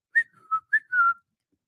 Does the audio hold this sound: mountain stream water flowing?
no